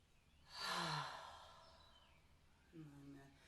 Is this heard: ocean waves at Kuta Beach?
no